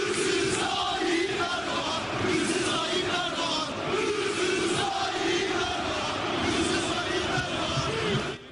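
Fenerbahçe supporters chant together at Şükrü Saracoğlu stadium, a huge crowd roaring rhythmic, sustained slogans in swelling waves that stay loud and unbroken across the whole span.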